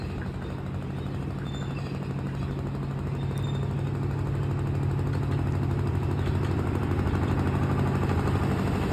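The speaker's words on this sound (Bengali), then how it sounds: "টয় ট্রেন আবার ঘুরে আসছে" A toy train passing in a park: a steady, low mechanical rumble like a small engine, holding constant and swelling slightly louder as it goes, with no voices.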